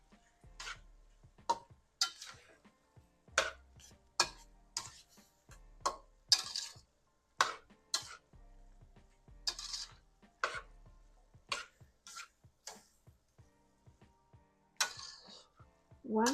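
A spatula stirs cauliflower fried rice with shrimp and vegetables in a pan, giving sharp, irregular scraping and clinking strokes, about a dozen spread over the stretch, with faint background between them.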